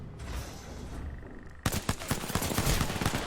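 Rapid pistol fire from a P2020 in a first-person shooter video game, a dense burst of sharp shots starting partway through and continuing loudly to the end, after a quieter stretch of game ambience.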